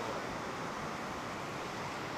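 Yellow River water rushes out of the Xiaolangdi dam during a flood discharge, throwing up white spray and mist. It makes a steady, dense roar that fills the whole stretch without a break, with no voices over it.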